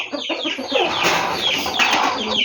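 Hens cluck repeatedly at close range in a rural farmyard, their quick, chattering calls layered over one another and running steadily with no pauses.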